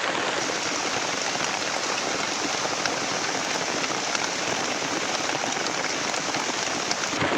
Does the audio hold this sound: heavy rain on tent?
yes